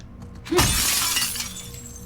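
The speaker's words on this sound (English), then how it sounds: "Thank you, breakable glass." Glass shatters sharply in The Last of Us Part II, one loud burst with a crisp crunch of breaking panes, followed by a scatter of tinkling shards that fades over about a second against quiet game ambience.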